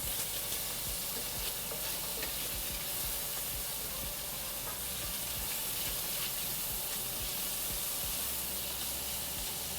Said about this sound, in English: I need to stir this. I see browning.